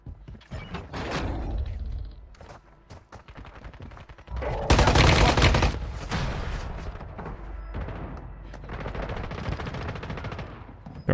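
Bursts of automatic gunfire in the Warzone Mobile shooter game, loud rapid volleys broken by short pauses, with a heavier blast near the middle and mechanical clanks, with no voices.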